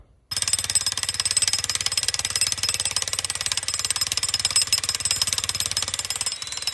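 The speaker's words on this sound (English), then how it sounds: "So I borrowed from my neighbor this jackhammer electric, which is pretty powerful." Powerful electric jackhammer breaking up a concrete block, a rapid, steady hammering rattle that starts abruptly and pounds on continuously, close and loud with no talk.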